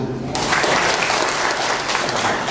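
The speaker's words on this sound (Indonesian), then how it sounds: "Tepuk tangan dulu Tuhan" A church congregation at a Sunday worship service bursts into loud, dense applause that starts abruptly after a brief spoken word and continues steadily to the end, with faint voices mixed in.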